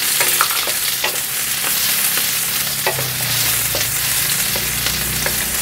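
Onion and garlic sizzle loudly in hot oil in a wok, a dense continuous frying hiss with occasional stirring clinks and scrapes throughout.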